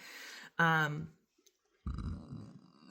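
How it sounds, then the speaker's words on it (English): A person burps once, then after a pause a second, louder burp comes at close range, with no talk alongside. "Confirmation burps."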